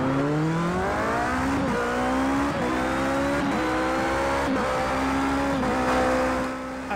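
A race car on rain tyres in Project CARS 2 at Spa on a cold, wet night, its engine loud and close, climbing in pitch through repeated gear changes with a racing-car whine, and no talking.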